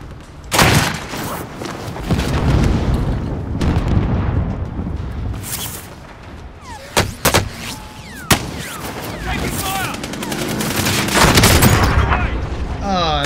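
A vehicle blowing up in Call of Duty: Warzone, struck by explosive rounds: several loud, sharp blasts and bangs burst out over rumbling gunfire, with one big detonation and a string of crackling hits after it.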